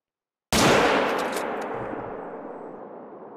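A single loud gunshot from hunting in the video game Call of the Wild, a sharp crack after a moment of silence, followed by a long echoing rumble that slowly fades.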